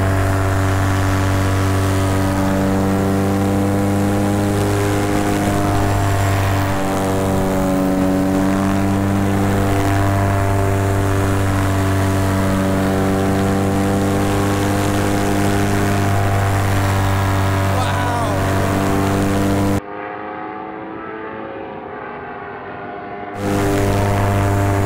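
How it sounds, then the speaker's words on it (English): Engine of a motorized glider running at full power: a loud, steady droning hum with strong even tones that holds for most of the stretch, cuts out briefly near the end, then resumes. "My poor engine, I'm just like running it to the max."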